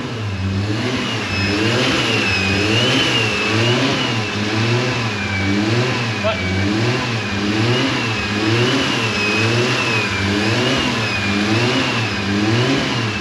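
A K24 engine in a Subaru Impreza runs steadily and revs up and down in a repeating rhythm, loud and close, with a faint high whine above it.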